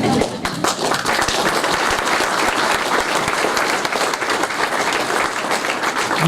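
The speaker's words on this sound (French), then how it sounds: "On peut les applaudir" A crowd at an award ceremony by a port gives sustained, loud applause for a group of women honoured on the podium, with thick, even clapping throughout and no pause.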